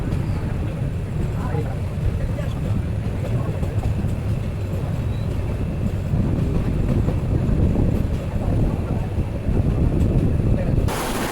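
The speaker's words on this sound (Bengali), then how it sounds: "আন্তনগর উপবন এক্সপ্রেস সম্ভবত ব্রাহ্মণবাড়িয়া রেলওয়ে স্টেশন থ্রুপাস যাবে" The Upaban Express intercity train rumbles through a station at night on the Dhaka to Sylhet route, a loud, continuous, steady roar of wheels and carriages.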